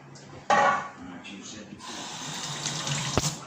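Water splashes and pours into a hot oven, then a steady hissing rush like steam rising, continuing loud to the end with a brief clatter near the close.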